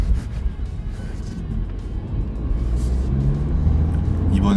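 A BMW 320d car accelerates hard, a low engine rumble swelling steadily louder from inside the cabin.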